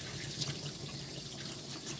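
Tap water runs steadily while a Yorkie is rinsed during a grooming, a constant close hiss of flowing water with no pauses.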